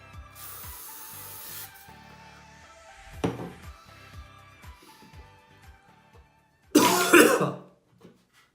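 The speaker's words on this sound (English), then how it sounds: "give yourself a little spray." Sunscreen spray misted onto the body before a beach outing: a soft hiss early on, then one loud, close burst of aerosol spray near the end, with quiet handling sounds between.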